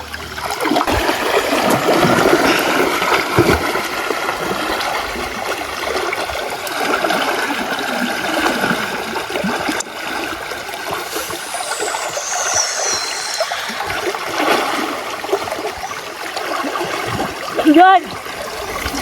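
Strong water current rushes over rocks in a shallow stream, a continuous broadband wash with trickles and splashes, moderately loud and close, while people talk intermittently over it.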